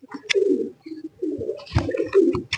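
Golden pigeons cooing close by, several low throaty coos in succession with soft wing or feather rustles between them.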